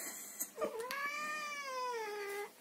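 A single pet cat lets out one long, drawn-out complaining meow, a rising then slowly falling wail held for nearly two seconds, close and clear in a quiet room.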